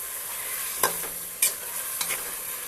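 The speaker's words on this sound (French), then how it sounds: "Ajouter la viande, laisser mijoter avec" Meat goes into a pot with potatoes for a sauté, giving three sharp clattering stirs or scrapes over a soft, steady sizzle, no voices.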